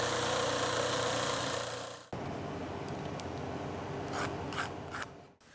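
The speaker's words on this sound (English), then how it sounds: "we'll just outline those templates and then cut them out using a jigsaw" A jigsaw buzzes through polypropylene barrier templates for fibreglass mould making, a loud continuous rasp that stops abruptly, followed by quieter rubbing and a few light knocks.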